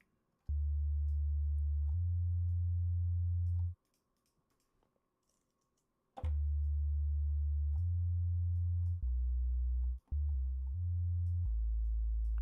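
Deep synth bass tones of a cinematic bass drop being shaped with an LFO and filter in Reaktor swell and cut off in phrases, with pauses of silence and a sharp click where a sound restarts.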